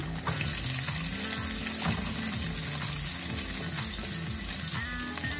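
Onion sautéing in a pan while pancit noodles are being cooked, a steady close sizzle and frying crackle that runs without a break and with no talk over it.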